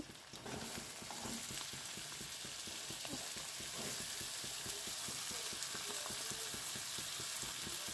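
Chopped onion sizzles in a pan for pav bhaji, a steady soft crackle of frying with faint stirring scrapes, quiet and continuous with no voices.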